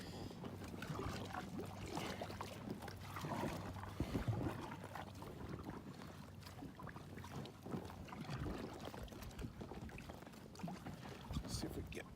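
A small fishing boat paddled on calm water, steady low swishes and gentle splashes with wind buffeting the microphone, continuous and fairly near, a voice talking over parts of it.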